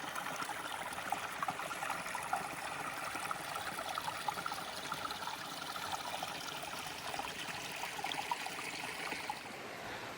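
Water trickles and babbles steadily beside Ullswater, a continuous soft, close stream-like wash with no voices, fairly quiet and unchanging throughout.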